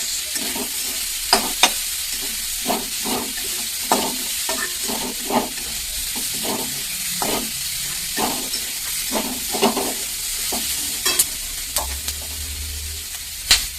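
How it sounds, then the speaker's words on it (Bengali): Onion and chicken stir-frying in a pan over a gas flame for a salad, a steady close sizzle with repeated scraping stirs and spatula knocks, no talking. "আমি গ্যাসটাকে বাড়া কমা করে ফ্রাই করবো।"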